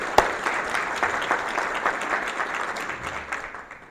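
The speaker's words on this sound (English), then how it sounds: "Let's give them all a big round of applause." An audience at a city's State of the City address gives a big round of applause, a loud burst of many people clapping that tapers slightly toward the end.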